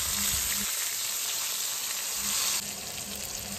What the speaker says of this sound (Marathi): नंतर त्यामध्ये मिरची, कढीपत्ता, टोमॅटो टाकून ते व्यवस्थित परतून घेऊया।